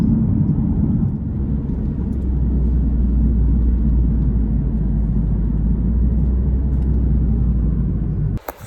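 Car driving through Yosemite park toward the visitor center, a steady low engine and road rumble heard from inside, loud and continuous until a brief knock at the very end.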